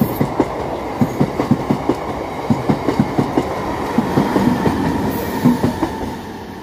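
A down Asansol–Sealdah passenger train passing through Hooghly Ghat station, its wheels beating a fast, steady clickety-clack over rail joints under a continuous rolling rumble, close by and without voices.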